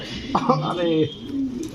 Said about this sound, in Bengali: এরকম বিউটি কবুতর